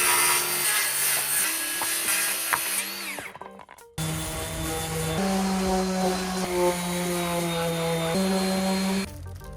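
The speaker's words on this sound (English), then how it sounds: "Now all we have to do is cut off this excess on here." A power saw cuts excess wood off a budget woodworking project, a loud close buzzing whine with a short pause midway before the cutting resumes steadily until the end.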